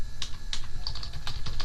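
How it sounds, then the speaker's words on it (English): Quick, uneven clicks of typing on a computer keyboard, a burst of keystrokes close by with no voices. "So now I'm going to go ahead and continue to type the second paragraph."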